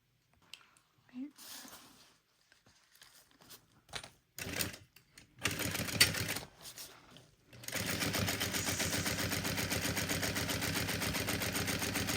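A sewing machine stitches across fabric near a zipper, with close clicks and brief handling bursts at first, then a loud, steady run of rapid, even stitching that continues unbroken to the end.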